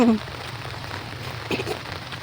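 Steady rain pattering on a surface nearby, a continuous hiss with a brief voice at the start.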